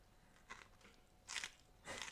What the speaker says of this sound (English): Just Josh munching his sandwich on stream.